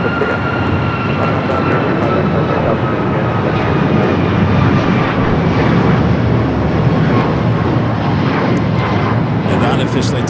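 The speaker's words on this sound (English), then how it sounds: "Turkish rolling down the 24 left." A Turkish Airlines jet rolls down runway 24 left at LAX, its engine roar loud, broad and steady for the whole stretch, with a faint higher whine riding above.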